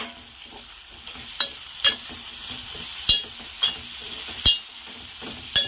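Tomato and eggplant pieces fry with onions in a hot pan for an egg and dried prawn curry, giving a steady close sizzle broken by several sharp clinks and scrapes of stirring.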